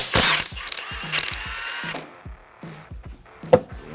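Ratchet wrench with thin-wall sockets clicking in quick bursts while loosening wheel lug nuts on a 1000HP widebody Charger, with a metallic clank near the end.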